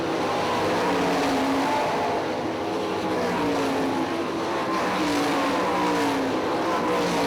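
Sprint cars race at Hartford Speedway Park in Michigan, with several engines roaring and droning together at a constant loud level, their pitches rising and falling as they run nose to tail through a turn.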